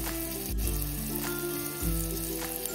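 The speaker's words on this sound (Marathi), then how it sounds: "कांदा टोमॅटो आपण तेलावरती परतून घेऊयात" Onion and tomato with spices frying in oil make a continuous close sizzle, with a low humming tone and a couple of soft thumps underneath.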